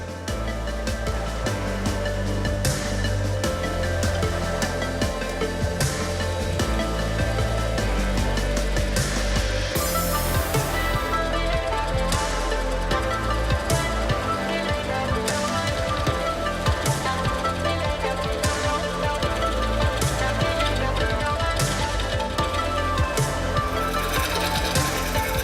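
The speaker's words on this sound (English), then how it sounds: "I want to start gouging out the center and seeing what's inside of it." A chisel gouges the centre of an extremely hard Australian red coolibah burl, giving a run of sharp, fairly regular scraping strikes over a steady, dense background hum.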